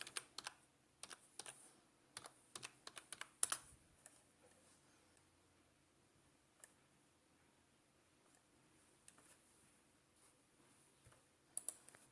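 Faint keyboard typing at a computer, irregular bursts of soft clicking keystrokes, then a long lull with only sparse taps before a brief final flurry, with no talking.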